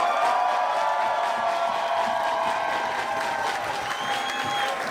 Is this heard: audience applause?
yes